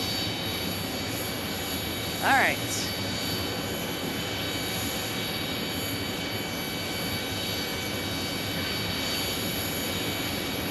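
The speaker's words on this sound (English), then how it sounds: "it's a turbofan engine" A jet airliner's turbofan engine roars steadily at an airport, a broad continuous rumble and hiss with a brief higher whine rising over it, heard at a distance.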